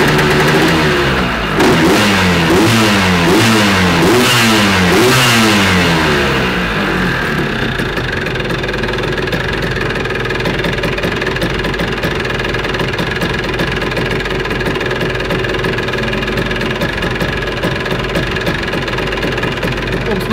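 A moped engine with a tuned expansion exhaust revs up hard on a dynamometer in rising, repeated surges, then holds a loud, steady high-rpm drone for a long stretch.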